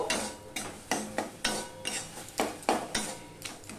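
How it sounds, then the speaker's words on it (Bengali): Leafy greens with salt and a pinch of turmeric being stirred in a pan, a run of about ten scraping strokes at a steady rhythm with soft clinks of utensil on metal, close and fairly clear. "দিয়ে সমানে আমি নেড়ে যাব"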